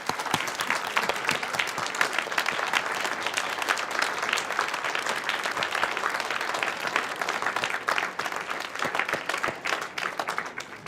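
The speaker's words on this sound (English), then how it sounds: "let's give a big round of applause to the panelists" An audience applauds the panelists at the close of a panel discussion on queer history in Newark, a steady mid-level wash of clapping that thins slightly near the end.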